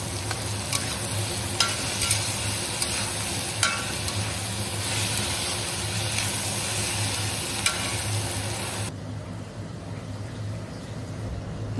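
Cucumber pieces and garlic sizzle and fry steadily in a pan, with stirring scrapes and clinks at intervals. The sizzling carries on unbroken until it drops to a quieter hiss near the end.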